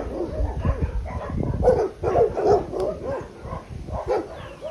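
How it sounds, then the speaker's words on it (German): Several dogs at a campsite bark and yip together in a loud, busy cluster of overlapping barks that continues throughout, with a few higher whimpers mixed in. "Aber das sind sicher fünf Hunde oder so."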